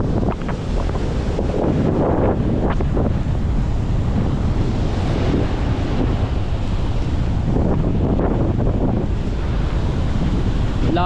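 Strong typhoon wind roars continuously into the microphone beside a river near the sea, with surf and water churning underneath; the blustery rush stays loud and unbroken throughout.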